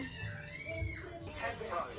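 A child imitates a cat's meow with one drawn-out, wavering mew. It sounds close and is mixed with a little nearby talk.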